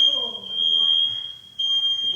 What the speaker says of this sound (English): My alarm is going off because I'm searing the fish on high.